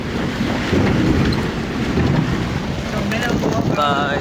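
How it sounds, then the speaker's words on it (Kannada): Strong wind roars steadily outdoors, buffeting the microphone with constant broadband rush throughout, near and loud, with a faint whistling tone near the end and no speech. "ಇವತ್ತೇ ಇಷ್ಟು ಗಾಳಿ ಇದೆ"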